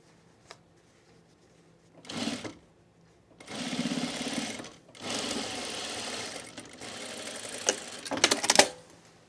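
A sewing machine stitches men's cargo shorts fabric in several runs of steady whirring, each lasting one to three seconds and separated by brief pauses, with a faint click early on and a louder final burst.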